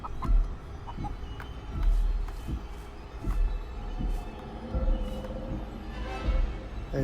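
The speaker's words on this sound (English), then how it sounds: "I heard cluck cluck." A chicken clucks in short, irregular bursts over a low thumping, rumbling background, the calls close and moderately loud across several seconds without speech.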